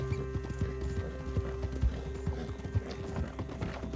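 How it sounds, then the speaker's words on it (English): Horse hooves in the video game Red Dead Redemption 2, a rapid rhythmic clip-clop of galloping with soft tack jingle under a steady low rumble, continuous and fairly loud. "Look at how fast that horse runs."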